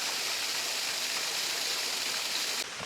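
Lost Falls, a waterfall pouring into a big pool at Desoto State Park, roars as a steady, loud broadband rush of falling water that holds without pause and drops slightly in level at the very end.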